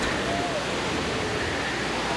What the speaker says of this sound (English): Just look at all these waterfalls.